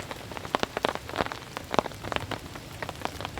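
Rain falling in a green forest during storm camping, with steady close drops pattering and tapping on surfaces in irregular bursts, alone without talk.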